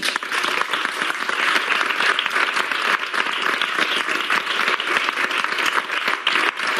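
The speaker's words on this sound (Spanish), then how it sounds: "aplaudirle que le tengo ahí" An audience bursts into sustained applause, a dense, even roar of many hands clapping throughout, fairly distant and unbroken, with no voice over it.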